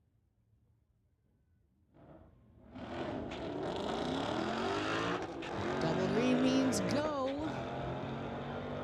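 Street-legal drag race launch between a 2014 and a 2016 Ford Mustang: a quiet stretch gives way to loud engines roaring off the line, rising rev sweeps and gear changes, with a brief spoken start call at the beginning.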